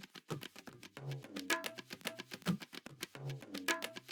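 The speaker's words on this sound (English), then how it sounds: "So then we have this tabla." Tabla percussion loop in an electronic track, sidechained by the kick drum, with quick repeating strokes and deep resonant bass tones in a steady, close rhythm, played quietly with no voices.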